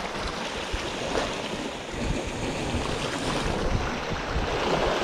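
Sea swell and waves wash along the rocky Guernsey coast, a steady close rushing and churning of water with some wind buffeting the microphone, and no voices.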